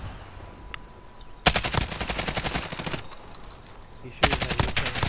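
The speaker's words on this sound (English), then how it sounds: "He shooting at you." Gunfire in Call of Duty Modern Warfare, two loud bursts of rapid automatic fire, the first lasting about a second and a half and the second arriving near the end, separated by a quieter lull of game ambience.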